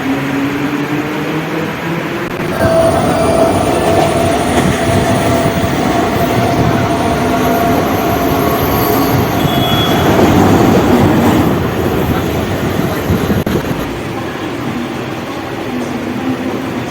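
Local train running from Sanpada station toward Panvel in Mumbai, a loud steady rumble of wheels and carriages heard from inside, with rattling and a faint squeal, swelling in the middle and easing toward the end, with no talk.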